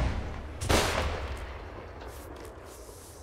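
A single loud artillery cannon blast, canister shot, booms in a video game and rolls away into a fading tail, with no voices.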